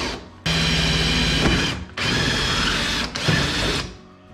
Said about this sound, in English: I'm going to use those as guides to basically just drill out from the boat